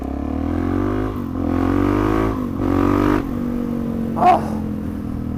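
Suzuki DRZ400SM petrol motorcycle engine revving up in two close, loud surges with a harmonic whine, then settling to a steady idle with a brief sharp blip near the end.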